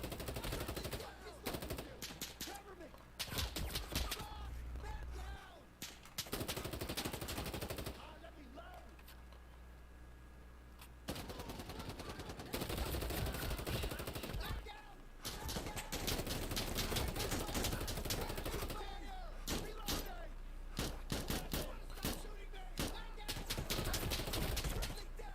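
Rapid bursts of automatic gunfire in the shooter game Bravo Team crackle loudly in repeated volleys with brief pauses, and a voice speaks between the shots.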